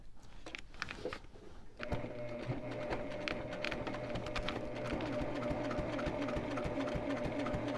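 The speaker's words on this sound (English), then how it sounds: "So I'm going to top stitch from the outside." A sewing machine starts up after a moment of quiet handling and then runs steadily, top stitching a glitter vinyl project bag from the outside, close and even in tone with no voices.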